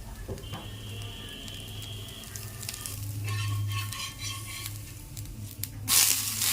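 Oil sizzling in a hot pan ahead of pouring buttermilk dosa batter, a steady close frying hiss with a low hum underneath and a brighter burst of crackle near the end; no talking.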